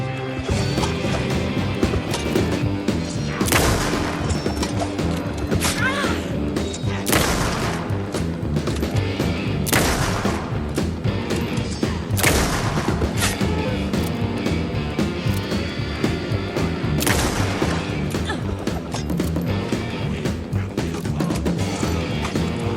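Gunfire in the video game Alan Wake 2: a string of heavy shots and crashing impacts recurring every few seconds over a dense, busy game soundscape.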